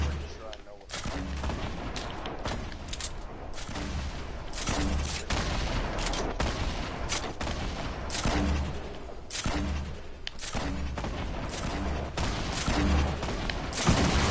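Fortnite gunfire sounds in a battle royale match as dense bursts of rapid shots and booming blasts, one after another, loud and close, with brief pauses between volleys.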